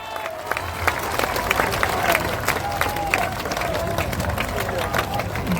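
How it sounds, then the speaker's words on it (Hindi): Crowd clapping at a Jan Suraaj political gathering in Bihar, a dense, steady wash of many hands that keeps going throughout, with murmuring voices mixed in. "जोरदार ताली बजाइए।"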